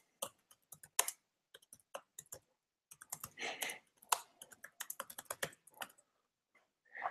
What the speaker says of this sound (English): So I can only leave a comment, type something in.